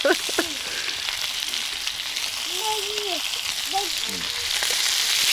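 Steady crackling sizzle of meat frying on a saj pan, close and continuous, with a few faint background voices.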